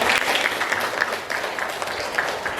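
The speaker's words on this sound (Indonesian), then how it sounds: "Tepuk tangan untuk mereka." Applause from an audience at a morning school presentation session, brisk dense clapping that stays loud and close across the whole stretch, with faint crowd murmur mixed in.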